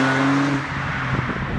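Naturally aspirated straight-six petrol engine of a BMW 130i drones steadily close by, with a brief rising rev, heard alone without talk.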